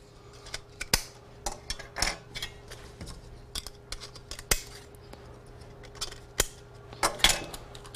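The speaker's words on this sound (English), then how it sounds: "So the first thing you do is snap your sockets into your socket bar" Plastic lamp sockets snapped one after another onto a metal socket bar during a four-to-two lamp fluorescent fixture retrofit, giving a string of sharp, close clicks and snaps at irregular intervals over a low steady hum, with no talking.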